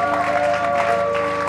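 A church congregation claps along in a steady rhythm, the applause blending with sustained music tones at a moderate, even volume.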